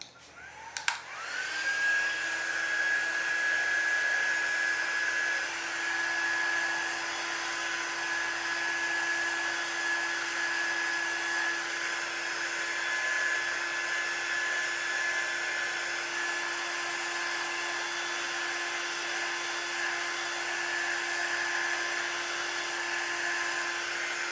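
A hair dryer blows steadily to dry glue on paper lunch bag gingerbread houses, its whining motor running loud and unbroken for over twenty seconds after a short click on, with no talking.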